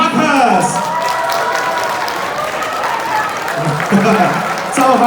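Wedding guests clapping at a banquet hall reception, a sustained dense round of applause mixed with crowd murmur and some laughter, with a voice speaking over it.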